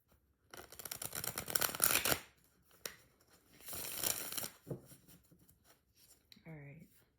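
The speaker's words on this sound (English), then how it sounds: "These cards are too big for my hands. I can't shuffle easily." Large tarot cards shuffled by hand in two dense riffling bursts, close and crisp, followed by softer handling and a short vocal sound at the end.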